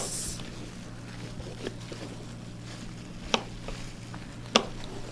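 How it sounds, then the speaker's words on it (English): A knife cuts the top off a green pepper on a board: a few soft cuts, then two sharp, distinct knocks of the blade striking the board, heard close and quiet against low background hum. "We're just gonna use a green pepper today. So first you want to cut the top off like this."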